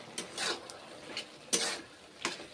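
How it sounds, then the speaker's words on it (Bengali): A spoon stirs vegetarian ridge gourd curry in a pot, giving a few soft, scattered scrapes and clinks spaced about a second apart. The sounds are quiet and close, with no talking. "নেড়ে চেড়ে নিচ্ছি এখন রান্না করছি ঝিঙের তরকারি"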